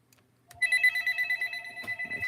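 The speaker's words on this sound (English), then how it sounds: "My phone is ringing off the hook." A phone rings at a crafting table, a steady electronic ringtone pulsing in a regular pattern, close and clear, starting after a short quiet moment with no talk over it.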